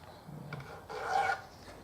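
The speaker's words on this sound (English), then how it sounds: "You can sort of obviously hear where the file's grabbing." A metal file rasping across the sharp edges of a guitar part during a setup, heard as two short rubbing strokes, the second louder and longer, close up with no talk.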